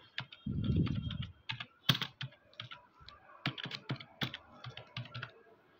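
Keys clatter on a computer keyboard while someone types text into Microsoft Excel: irregular bursts of quick clicks with brief pauses, close and fairly quiet, with no voices.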